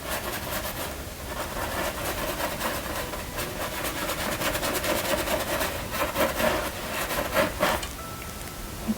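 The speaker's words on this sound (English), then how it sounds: "So I'm scrubbing my brush." A worn, crummy paintbrush is scrubbed against the painting surface while adding a glow around painted moons, giving a steady, close, dry rubbing swish that continues throughout with small rhythmic bursts and no talking.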